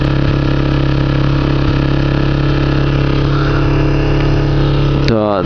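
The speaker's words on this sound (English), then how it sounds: "This is a 250cc bike, as I said, but it's got plenty of power" A Kawasaki Ninja 250cc motorcycle ridden in Rio Rancho, New Mexico, its engine droning loud and steady throughout with strong harmonic tones, then revving upward sharply near the end.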